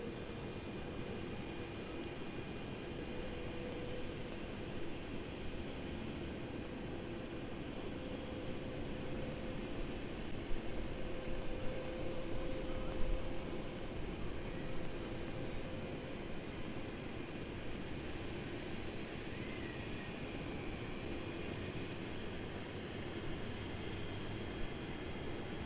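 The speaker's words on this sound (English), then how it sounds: "here is that Beach King arrival" A Beechcraft King Air arriving at Sydney Airport at night, a broad, steady engine roar that stays dense and fairly distant throughout, with no distinct peak.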